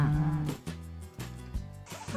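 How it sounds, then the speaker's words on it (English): A cow lowing in a series of deep, drawn-out moos, loud and close, each call separated by brief pauses with a harsher, nasal tone toward the end. "cow"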